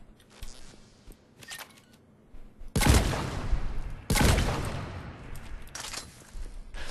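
Eviscerator shotgun in Mass Effect 3 firing at short range, two heavy, booming blasts about a second and a half apart, each with a long rumbling tail, after a quieter stretch of faint clicks.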